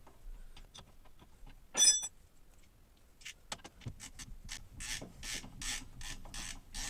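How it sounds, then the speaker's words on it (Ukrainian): A 14 mm wrench ratchets on a brake caliper bolt of a Mazda 6, with a brief metallic jangle early, then a run of quick, close clicking ratchet strokes. "14 й ключик беремо і так само, як знімали, так задавлюємо. На себе тянемо і крутимо в різні боки."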